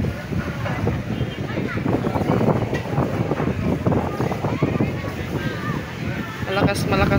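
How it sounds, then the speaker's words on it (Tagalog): Strong wind buffets the microphone in gusty rumbling bursts at a market, with faint voices talking underneath the roar. "Malakas yung hangin."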